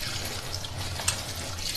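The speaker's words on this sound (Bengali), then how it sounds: "জলটা ফেলে দিলাম, দিয়ে আবার কল চালিয়ে" A kitchen tap runs water to rinse soaked ash gourd pieces, giving a soft, steady hiss and splash that is fairly faint and close, with no talk.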